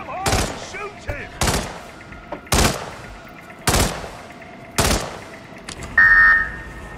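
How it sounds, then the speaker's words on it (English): Gunfire in Hitman World of Assassination: five loud, sharp shots spaced roughly a second apart, each with a brief echoing tail over a quiet hum, followed by a short electronic game tone at the end. "Come on, shoot him."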